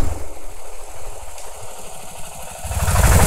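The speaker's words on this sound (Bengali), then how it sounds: "সামনে একটা বাইক যাচ্ছে দেখো" A motorcycle engine runs steadily nearby on a hill road in Keonjhar, Odisha, its low rumble swelling louder toward the end as it draws closer.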